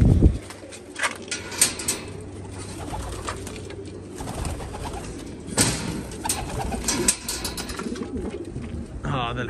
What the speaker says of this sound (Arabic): هذا حمام جولدن